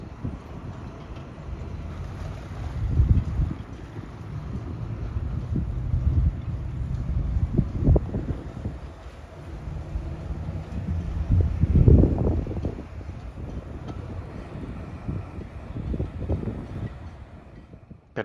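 Gusting wind buffets the microphone in a harbour during a motorboat berthing, swelling into loud rumbling surges around the middle and again near the end, with a steady low background roar throughout.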